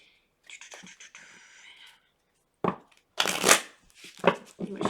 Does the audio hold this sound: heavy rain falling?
no